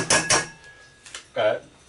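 Metal utensils clatter and scrape against a pot while stirring potatoes in a few quick bursts, close by, with short pauses between strokes.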